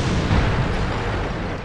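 Tank cannon shot in the World of Tanks video game, a loud, dense blast filling the short moment with a sustained rumbling roar.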